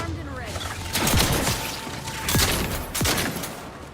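Shotgun blasts in The Outer Worlds 2 sci-fi shooter: a burst of several sharp, loud reports in quick succession, followed by two more heavy booms about half a second apart, with game effects mixed in.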